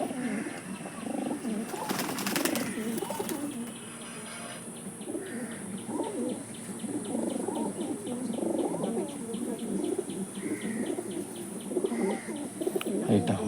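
Pigeons of the Andhra kalsira breed coo at a sale, with soft, repeated coos and scattered chirps close by over a constant noisy background.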